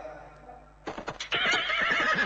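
A horse neighs as a sound effect in a Thai song about horses. A quiet passage gives way to a sudden loud whinny, and fuller music swells right after it.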